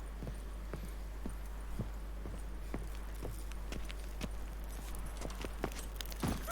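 Roach the horse in The Witcher 3 Next Gen on PC, hooves clip-clopping in an uneven, fairly quiet rhythm over a constant low hum, ending in a louder flurry of steps.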